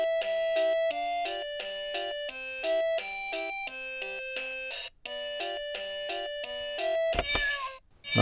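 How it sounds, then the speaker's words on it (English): A toy animal bus plays an electronic chiming jingle of repeated tones, then ends with a short synthetic cat meow. The sound is close and fairly quiet. "We do get a cat sound."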